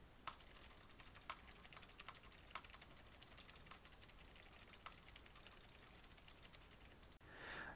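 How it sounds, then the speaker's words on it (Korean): Computer keyboard keys and mouse buttons pressed in a quiet room, picked up by a ROCCAT Elo microphone: a steady stream of soft, faint typing clicks with a few sharper taps, ending in a brief pause. "일단 기본 상태에서 키보드와 마우스 버튼을 눌러 보겠습니다"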